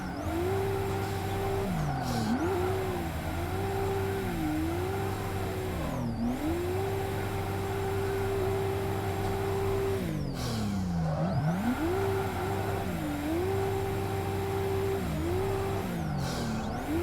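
Adam LZ's turbocharged Nissan S13 drifting in Assetto Corsa, its engine droning with a steady, whiny, vacuum-like tone that dips and surges repeatedly under throttle changes, loud and continuous with no voices.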